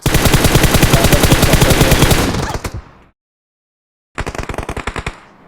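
Loud, rapid automatic gunfire in the mobile battle royale game PUBG Mobile, a long sustained burst, a stretch of silence, then a second shorter burst of fast shots.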